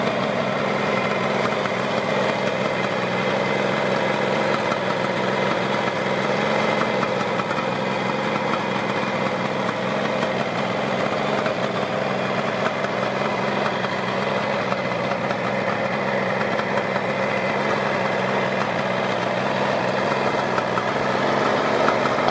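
The three-cylinder two-stroke engine of a Kawasaki 750 H2 motorcycle idles, a steady, close, buzzy running note that holds at an even level throughout with no speech.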